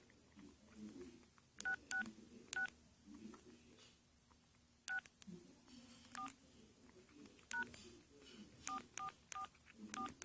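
Keypad tones from a Samsung SCH-U340 phone while texting, clusters of short, fairly quiet beeps at an irregular pace with soft talking in between.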